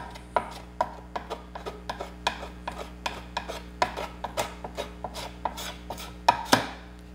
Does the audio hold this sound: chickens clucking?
no